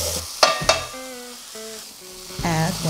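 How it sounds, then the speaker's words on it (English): Green onion stir-fried with bacon and kimchi in a pan, a soft steady sizzle with a few scraping stirs and light clinks of a utensil against the pan, close and fairly quiet. "Add green onion to the pan and stir fry for additional 3 minutes."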